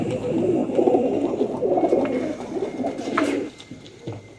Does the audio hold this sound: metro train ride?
no